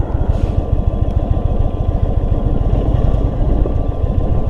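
A 2022 Indian Super Chief's air-cooled motorcycle engine runs steadily and loud up close, a continuous low rumble with a dense, even pulsing throughout and no talk.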